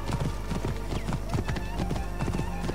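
A horse trots in Assassin's Creed Origins, its hooves clip-clopping in a steady, loud, close rhythm throughout, with a possible neigh amid the game sound and faint voices.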